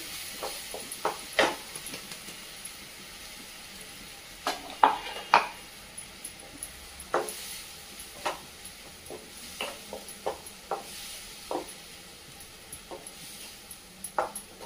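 A coconut, garlic and ginger paste sautés in a pan, a quiet soft sizzle under repeated sharp scrapes and clinks of a spoon stirring at irregular intervals.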